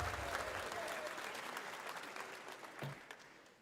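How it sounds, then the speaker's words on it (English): A live crowd at Summer Game Fest roars and applauds, a dense wash of cheering that slowly fades, with a voice briefly speaking over it. "Stop cheering."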